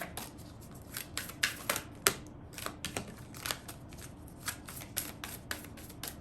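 A Key Oracle card deck is shuffled close by, giving soft riffling bursts and crisp snapping flicks in an uneven rhythm.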